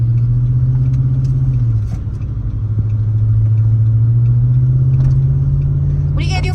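A car pulling away from a green light, its engine a steady low rumble from inside the cabin with a slight dip and rise, a voice talking over it.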